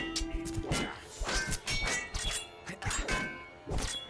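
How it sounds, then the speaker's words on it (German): Metallic clangs and dings ring out as bells are struck in the video game Sacred, several hard hits spaced irregularly over a few seconds, bright and resonant with tails that ring on between strikes. "Lass mal ein paar auf die Glocken hauen."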